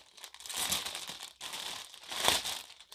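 Plastic packaging around a custom embroidered crewneck sweatshirt with a chenille patch crinkles and crackles up close in two bursts while it is unwrapped, with no talk.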